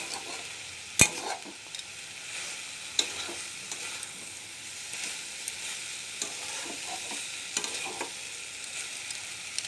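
Banana flower curry with spices sizzles quietly in a pan as a spoon scrapes and stirs at intervals, with a sharp metallic clink near the start.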